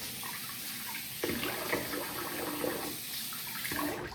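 Water runs from a tap into a sink for a rinse after a wet shave with a double-edge razor, a steady close splashing flow with a few louder surges.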